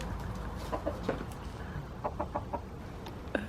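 Chickens on a Florida Keys homestead cluck in short, repeated bursts close by, a run of quick calls in the middle and a sharper one near the end, fairly faint and with no speech.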